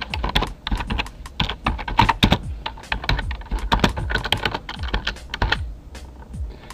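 Rapid clicking on a computer keyboard while editing a date in a Microsoft Word newsletter, irregular bursts of close, crisp keystrokes with brief pauses, no voices.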